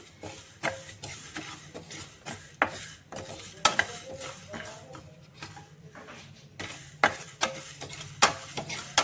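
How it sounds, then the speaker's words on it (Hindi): Whole spices dry roasting in a pan over a low flame while being stirred, with soft scraping and light clinks of a utensil against the pan, intermittent and close, no talking. "इनको हम ड्राई रोस्ट कर लेंगे लो फ्लेम पर"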